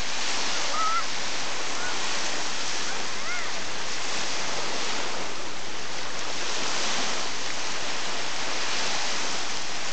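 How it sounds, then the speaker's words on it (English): Waves from a passing boat wash and splash in a continuous broadband rush against the shore, loud and steady throughout, with no speech. "The boat leaves big waves."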